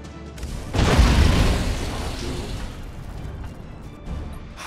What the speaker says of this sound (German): der ist gerade explodiert